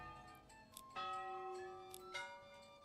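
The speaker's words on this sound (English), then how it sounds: "Can you ring the bell?" Small toy train bell rung twice, bright ringing tones with lingering harmonic decay, quiet and close with no talk over it.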